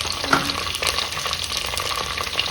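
Mustard seeds frying in hot oil for a dal tempering, a steady close crackling sizzle with sharp pops scattered throughout and no talking.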